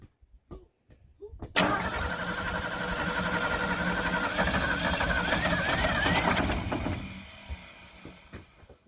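A Ford Ranchero engine that sat for 39 years starts after a few weak clicks and runs at a fast, steady idle with a loud mechanical drone and rattle, then cuts off near the end.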